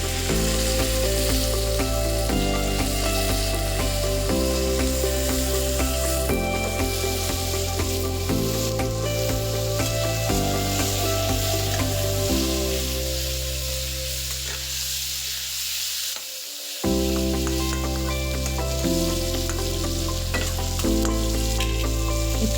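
Meat pieces added to a hot pan with a little chili powder fry with a continuous sizzle and stirring scrapes, heard under loud, steady background music that briefly drops out near the end.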